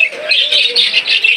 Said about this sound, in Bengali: আর এখানে দেখবেন লুডিনো 1 পেয়ার বাজিগার